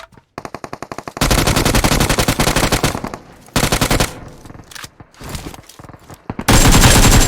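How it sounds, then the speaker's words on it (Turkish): Loud bursts of rapid automatic gunfire from PUBG Mobile, coming in dense rattling strings with short pauses between volleys, close and dominant with no talking. "Buraya sıkıyorlar galiba."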